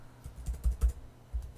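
Typing on a computer keyboard while entering MATLAB commands, heard as a quick, uneven run of soft, close keystroke clicks with a short pause before the last few taps.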